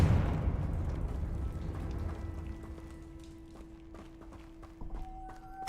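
A Confringo blast spell from a Harry Potter video game goes off as a single heavy, rumbling explosion at the start, then fades slowly into a quiet tone and faint game ambience.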